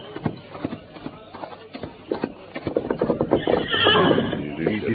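Horses neighing and whinnying with clip-clop hooves breaking into a gallop, a radio drama sound effect for the Lone Ranger's mounts Silver and Scout; whinnies come first, then louder, denser hoofbeats build toward the end as the horses ride off.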